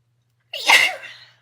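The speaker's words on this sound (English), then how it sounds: "I'm going to sneeze" A single close, loud sneeze bursts out of silence, sharp at the onset and trailing off in a breathy fade.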